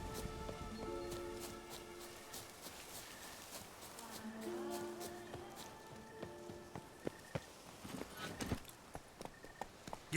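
Horse hooves clip-clop at a steady walk in The Witcher 3 video game, set against ambient game music and background sounds, with a few sharper hoof strikes near the end.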